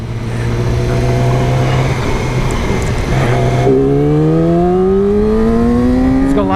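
A 2019 Yamaha R6 motorcycle engine revs loudly and steadily, then drops briefly before pitching up continuously as it accelerates hard through the gear, close and dominant with no talk.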